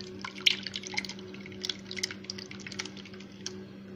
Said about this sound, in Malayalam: ഇനി ഇത് ഞാൻ ഡ്രൈയിലോട്ട് ഒഴിച്ചു കൊടുക്കുകയാണ്.